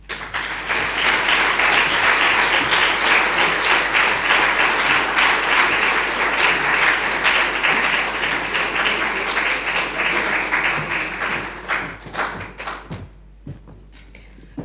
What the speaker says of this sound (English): a warm, rousing round of applause